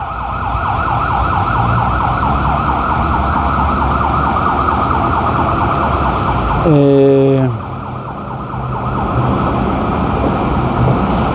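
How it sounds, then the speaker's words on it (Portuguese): A loud ambulance siren warbles continuously nearby over traffic rumble, briefly interrupted by a short burst of another sound partway through. "a ambulância"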